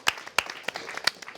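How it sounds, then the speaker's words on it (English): A handful of scattered, sharp hand claps from a small audience at a broadcasting school open evening, cheering a lucky winner; the separate claps are spaced out rather than building into full applause. "Round of applause, everyone."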